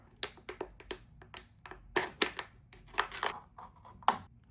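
A Buck 379 toothpick knife cuts into a plastic bottle, giving a string of close, sharp crunching snips and taps in irregular bursts, with no voices.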